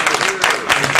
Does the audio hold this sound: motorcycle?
no